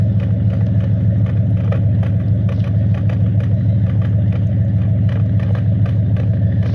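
A car engine idles with a frozen tailpipe and a possible misfire, a loud, close, steady low rumble with faint irregular ticking over it.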